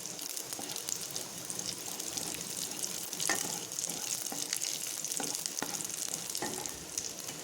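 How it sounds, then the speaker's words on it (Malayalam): Cashew nuts and raisins fry in hot ghee in a pan, a steady, close sizzle with occasional stirring scrapes and small crackles running throughout without a break. "നെയ്യ് ചൂടായി വരുമ്പോൾ നമ്മൾ കാഷ്യൂനട്ടും കിസ്മിസും അതിലോട്ടിട്ട് ഫ്രൈ ചെയ്തെടുക്കുന്നു."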